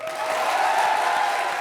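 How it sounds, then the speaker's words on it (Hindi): Studio audience applause at a televised comedy show, a dense steady wash of clapping filling the whole moment at even loudness with no voices over it. "जोरदार ताली बजाओ फिर"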